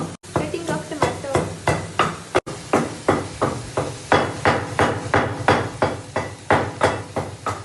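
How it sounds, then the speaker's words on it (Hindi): Tomatoes being chopped with a knife on a board for a chicken curry, a fast regular run of sharp close chops that keeps going for several seconds, with no talk. "Cutting of tomato."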